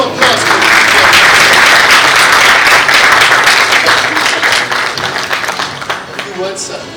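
A large audience at an awards ceremony applauds loudly, dense sustained clapping that fills the room, then thins and tapers off toward the end.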